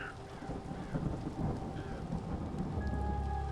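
Steady rain pours and thunder rumbles low in The Séance of Blake Manor video game, a dense, fairly quiet storm bed with no voices.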